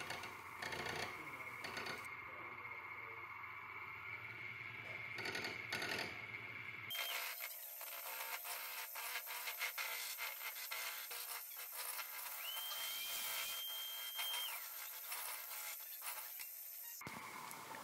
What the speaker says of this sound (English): I got myself a sycamore spindle block and set about working on the wood lathe.